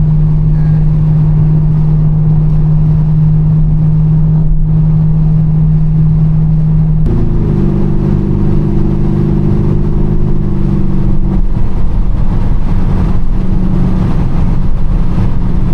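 A loud Corvette Z06 engine idles with a deep rumble, then revs higher and holds, the roar steady and close.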